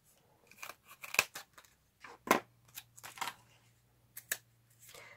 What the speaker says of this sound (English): now it's really, really easy to cut. So I can cut this to length.